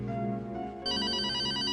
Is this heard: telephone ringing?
yes